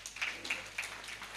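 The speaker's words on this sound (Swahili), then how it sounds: "Tupigie wazee wetu makofi." Church congregation at a live Sunday service applauding its elders, a faint, short patter of scattered hand claps with a few sharper claps standing out.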